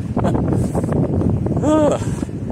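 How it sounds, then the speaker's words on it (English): Loud, blustery wind buffets the microphone in heavy gusts on the Appalachian Trail, with a rushing roar throughout and a brief tonal whine near the end. "the wind keeps picking up heavier too. Some pretty big gusts."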